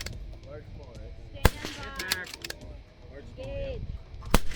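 Two sharp .22 rifle shots ring out at an NRL22 precision match, one near the start and one near the end, standing clear above low background noise and nearby speech.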